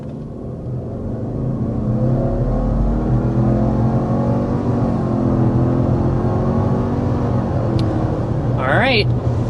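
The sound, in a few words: 2026 Subaru Outback XT hard acceleration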